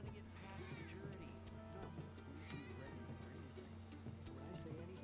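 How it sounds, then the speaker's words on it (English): Cats meow in the video game Final Fantasy 7 Rebirth, several soft, scattered mews mixed into busy background music and ambient game sound. "Cats."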